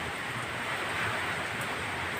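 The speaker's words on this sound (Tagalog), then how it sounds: "Kung gano'ng kalakas yung ulan, gano'ng kalakas ang hangin." A steady, dense roar of strong wind and heavy rain, loud and unbroken, with no voices.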